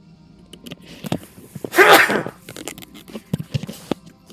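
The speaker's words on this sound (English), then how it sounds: "Hopefully that sneeze didn't come crazy through the microphone." A single loud sneeze bursts out close to a gaming microphone during a StarCraft Brood War tournament broadcast, surrounded by quiet clicks and small handling noises.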